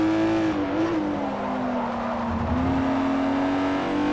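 A race car's engine holds a strained, wavering drone through a long sweeping corner in the racing game Forza Motorsport 4, its pitch dipping and climbing again while the tires squeal continuously beneath it.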